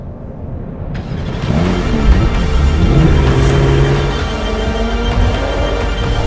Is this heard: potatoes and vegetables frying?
no